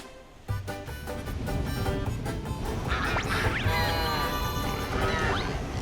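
Loud, rapid duck quacks burst out after a sudden thump, continuing in a busy, chattering stream for several seconds.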